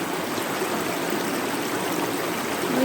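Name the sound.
forest stream water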